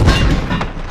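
A demi-cannon firing: one loud, deep, dense boom filling the short moment, heard alone.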